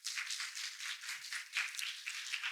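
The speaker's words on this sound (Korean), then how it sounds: "업사이클 활동에 대해 철학적인 의미를 설명해 주신 김서윤님께 다시 한번 큰 박수 부탁드립니다." Audience applause for Kim Seo-yoon at a youth climate conference session, thin and fairly faint, a steady patter of hands that sounds distant and filtered.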